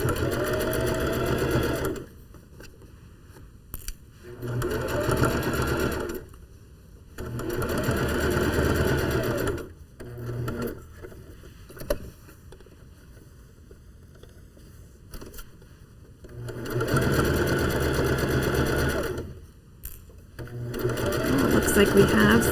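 Sewing machine stitching a seam in stretchy fabric, loud close bursts of rapid mechanical whirring that start and stop several times, with a person talking in the pauses between runs.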